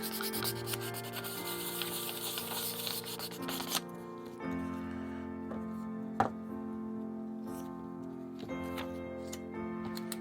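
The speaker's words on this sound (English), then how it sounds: "Burnish it in really well." A decor transfer is burnished with steady, soft back-and-forth rubbing, with occasional faint ticks, all quiet and close over a low tonal background.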